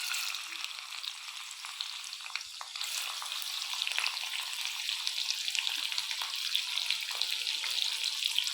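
Onions fry in a pan for veg noodles, giving a continuous bright sizzle that slowly grows louder, with a few soft stirring scrapes and crackles and no talk.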